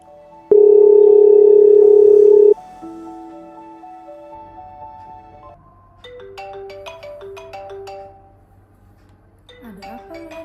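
Outgoing phone call ringback: a loud steady tone opens, then repeating electronic ringing tones and melodic chimes follow, clear and close with no talking.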